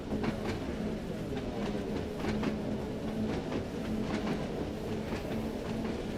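Train running at full throttle at around 24 mph near Sandown, with steady loud rumbling wheel noise and a rhythmic clickety-clack of rail joints throughout, plus a faint droning tone underneath.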